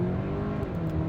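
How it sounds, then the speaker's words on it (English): A 2022 Hyundai Santa Cruz pickup with 280-plus horsepower launching from a torque-brake start at about 2200 RPM, its engine a steady, close, throaty roar that stays strong throughout the brief moment. "Torque brake to about 2200 RPM and go."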